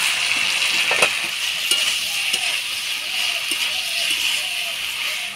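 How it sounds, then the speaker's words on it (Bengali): Stuffed pointed gourd with prawn cooks in a pan, sizzling steadily while it is stirred, with occasional clinks of a spatula against the pan and a few faint splashy bursts over a constant hiss. "সবজিটা ভালো করে মজায় নিচ্ছি।"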